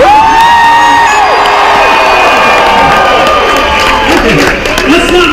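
Loud, close studio audience of a game show cheering, whooping and shouting with scattered clapping, a continuous dense roar of many excited voices, including high-pitched shouts, sustained throughout.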